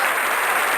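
An audience at a virtual underground music event gives a band a brief, loud burst of applause, a dense, continuous wash of clapping.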